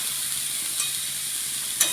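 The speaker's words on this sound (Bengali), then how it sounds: "এবার আমি ঝিঙা দিয়ে দেবো, কেটে রাখা কুচো করে রাখা ঝিঙা দিয়ে দিচ্ছি" Finely chopped ridge gourd sizzles in hot oil alongside fried fish head pieces, a close, steady frying hiss with a couple of brief scraping stirs and no voices.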